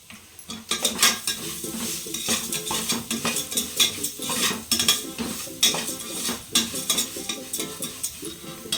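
Spices and turmeric fry in a pan for foxtail millet pongal, with a constant bright sizzle under busy, rhythmic scraping and clinking of a spoon against the pan, close and fairly loud throughout.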